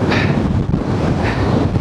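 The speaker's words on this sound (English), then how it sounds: "I don't think I've been up here and it's been this windy before" Strong gusting wind on the summit of Tryfan in Snowdonia roars loudly and constantly across the microphone, with two brief surges of hiss and no speech.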